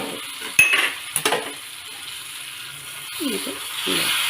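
Fried tempering is poured into papaya erissery, then a spoon clinks and scrapes against the pot with a soft sizzle. Near, clattery handling sounds come in a few quick knocks, followed by quieter stirring.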